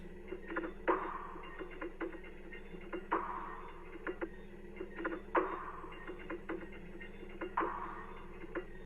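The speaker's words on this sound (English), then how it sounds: "And lastly, I added these perk loops that sound like this." Percussion loops in an Ableton Live beat tick and click in a steady repeating pattern. Accented hits recur about every two seconds over a low sustained bed, with no voices.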